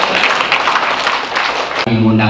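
A crowd of listeners at a gathering in a faculty of medicine building claps loudly and steadily for about two seconds, then it cuts off abruptly and a tonal voice or music begins.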